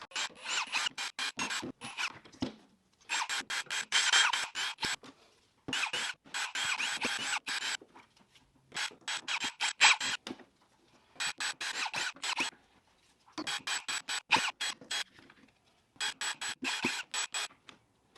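Phillips screwdriver unscrewing the housings of budget swivel spray guns, rapid ratcheting clicks in repeated bursts of a second or two separated by short pauses, close and fairly quiet.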